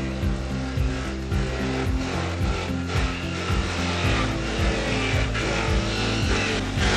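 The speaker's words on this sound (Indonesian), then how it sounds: "Untuk mesin selepnya sudah menggunakan motor listrik." An electric motor drives a cassava grating machine making slondok, giving a loud, steady mechanical drone with a rapid pulsing rhythm throughout, close up and without voices.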